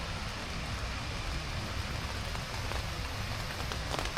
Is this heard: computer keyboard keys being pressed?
no